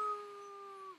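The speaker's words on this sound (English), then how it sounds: "How about a howl animal?" An animal howl sound effect: one steady, sustained tonal howl with a clear overtone, holding a level pitch and then sliding down at the end, heard alone and fairly close.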